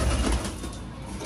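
Pigeons coo softly around a new wooden pigeon house, low murmuring calls under steady outdoor background noise, with a brief flutter of wings near the start.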